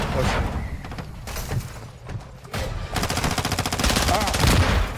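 Bursts of rapid automatic gunfire in Call of Duty: Warzone DMZ, bright repeated volleys, loud and close, with a voice talking over parts of it.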